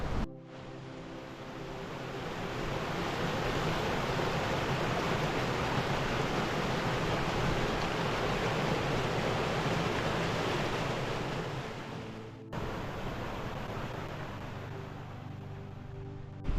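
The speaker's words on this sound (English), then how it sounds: "The beck's called Squat Beck and it runs into Crummock Water." Squat Beck, a Lake District stream running into Crummock Water near Rannerdale Knotts, rushes steadily with a broad, continuous wash of water, close and fairly loud, with a brief break near the end and no talking.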